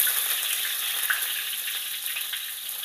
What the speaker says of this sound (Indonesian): Nah ini udah mulai panas, kita masukkan aja bawang merah dan juga bawang putih.